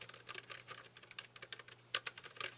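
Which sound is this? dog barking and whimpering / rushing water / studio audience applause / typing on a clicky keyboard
typing on a clicky keyboard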